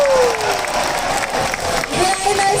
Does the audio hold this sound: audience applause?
yes